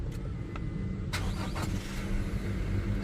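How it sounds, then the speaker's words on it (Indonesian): A Toyota Fortuner VRZ with the 2.8-litre engine starts at the push of its start button: a brief starter whir followed by the engine catching and settling into a steady idle. "tinggal injek rem dan tekan engine start button di sebelah kanan sini untuk menyalakan mesinnya"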